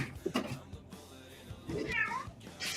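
A female cat in heat meows repeatedly, with several loud, drawn-out yowls close by that rise and fall, separated by short pauses.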